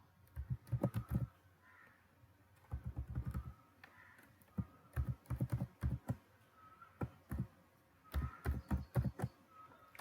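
Fingers type Python code on a computer keyboard nearby in bursts of rapid key clatter. Short pauses fall between the bursts, with no talk.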